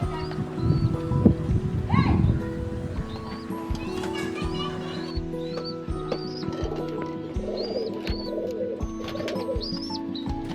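Pigeons in a home loft with a chick, heard as soft low coos and thin, repeated high peeping chirps up close, with a person talking in the first seconds and light shuffling and knocks around.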